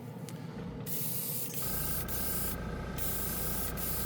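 Spray paint hissing from an aerosol can onto cards, a loud continuous close hiss lasting several seconds with a brief change in tone partway through, without voices.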